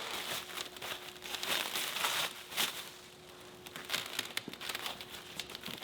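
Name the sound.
unwrapping parts back from the powder coaters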